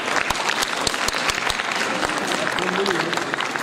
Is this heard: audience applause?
yes